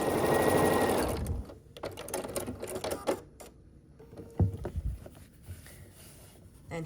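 A sewing machine stitches the last seam of a scrappy sampler quilt block with nesting corner triangles, running in a loud steady burst at first, then easing into shorter uneven runs and clicks close by.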